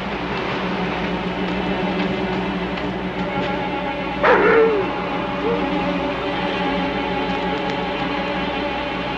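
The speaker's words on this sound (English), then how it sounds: "It's a dog." A single short dog bark rings out once, somewhat distant, over a constant low rumbling background.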